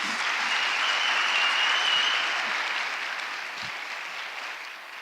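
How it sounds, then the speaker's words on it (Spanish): Audience applause at a science talk event, dense and continuous for about five seconds, strongest early and fading gently toward the end. "pido un aplauso. ¡Rápido!"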